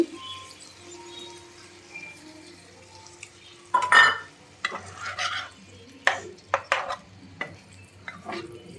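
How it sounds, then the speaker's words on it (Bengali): Potatoes stirred in a pan with a little water, heard as soft sizzling and bursts of scraping from a spoon against the pan, close and without talk. "আলুটা একটু ভালো করে আর সামান্য একটু জল দিয়ে দিচ্ছি"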